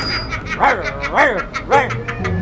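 A person mimics a dog, letting out three barking yelps in a row, each voiced bark rising and falling.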